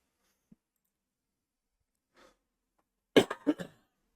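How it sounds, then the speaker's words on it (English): A short burst of coughing, two or three harsh coughs close by, preceded by a faint breath in an otherwise quiet room. "still have a cough"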